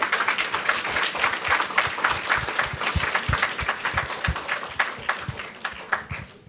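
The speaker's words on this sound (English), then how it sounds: "Give them a round of applause." A school spelling bee audience claps steadily and fairly close for several seconds, with dense overlapping hand claps that thin out slightly toward the end.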